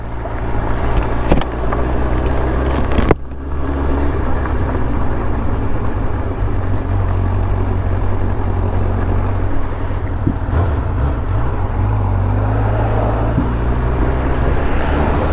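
Motorbike riding a rocky trail in Wissahickon, a steady loud low engine drone throughout with rattles and bumps over rock, no talk.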